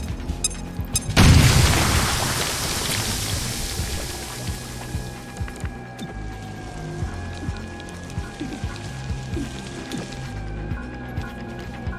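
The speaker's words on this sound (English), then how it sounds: "Throwing grenade." A grenade blast in XCOM: Chimera Squad hits hard with a loud, deep boom, then tails off into a long, crackling rumble as debris and ambient noise settle.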